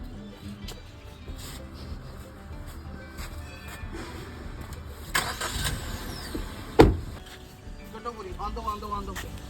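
A car being driven out of a tight parking spot, its engine rumbling steadily at moderate distance for several seconds while people talk over it, with a sharper thump partway through.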